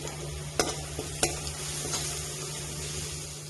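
Crushed chilli, shallots and curry leaves fry in a pan, giving a steady low sizzle with a few sharp stirring clicks and scrapes near the start, alone without talk.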